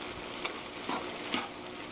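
Fusilli in tomato sauce is stirred in a single pot with Parmesan and sliced cheese mixed in, giving a soft, steady sizzle with three gentle scraping strokes at a slow, even pace. The sound is faint and close, with no voices.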